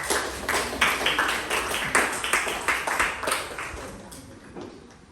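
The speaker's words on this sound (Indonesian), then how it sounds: "tepuk tangan dulu buat kita" Students in a classroom teaching-practice lesson clap together in a quick, steady burst of claps that tapers off toward the end.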